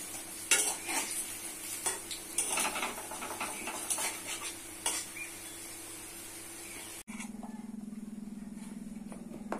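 Bori lentil dumplings fry in hot oil with soft crackling sizzle and stirring scrapes near the pan, then the sound abruptly shifts to a steadier low hum with faint sizzle.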